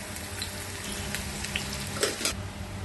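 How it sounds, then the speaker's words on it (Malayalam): Mustard seeds and a cut green chilli tempering in hot oil in a pan, a soft steady sizzle with scattered small pops and crackles, one sharper burst near the end, no talk. "അടുപ്പത്ത് ഒരു പാൻ വെച്ച് ചൂടാക്കി എണ്ണ ഒഴിച്ച് 1/4 ടീസ്പൂൺ കടുകും 1 പച്ചമുളക് മുറിച്ചതും ചേർത്ത് താളിക്കാം"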